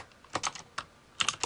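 Keys clack on a computer keyboard while code is entered in Xcode, a few quick taps, a pause, then another short burst, close and crisp.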